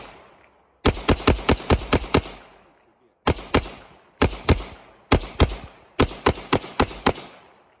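Rapid pistol gunfire in magazine dumps outdoors: several loud, close bursts of quick cracking shots, each burst five to eight shots, separated by brief pauses, with echoes trailing after.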